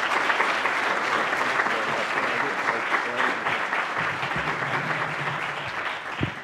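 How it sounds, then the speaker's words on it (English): Sustained applause from a sizable conference audience, dense clapping that stays steady throughout, with a faint voice near the end. "So could I ask you with your applause to please welcome and thank Senator Cory Gardner for being with us."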